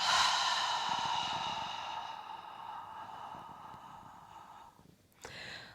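A long, steady exhale of breath during a slow-flow yoga practice, broad and airy, gradually fading over several seconds before a brief fresh breath at the end, close and alone without talk.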